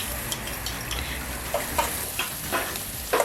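Ginger hits a hot wok while chilli crab cooks, giving a steady, close sizzle of frying with light stirring clicks and scrapes scattered through it.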